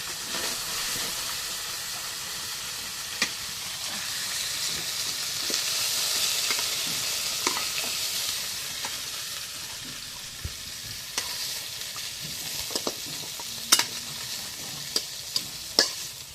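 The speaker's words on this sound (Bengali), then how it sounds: "এখন এই ব্রয়লারের মাংসটা ভাজা হয়েছে" Broiler chicken meat fries in an oiled pan with a loud continuous sizzle and hiss. Sharp clicks and scrapes of stirring come through, growing more frequent toward the end.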